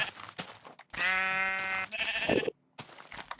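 Several sheep in the video game Minecraft bleat in short bursts, one long wavering bleat in the middle, close and clear with brief silent gaps between calls.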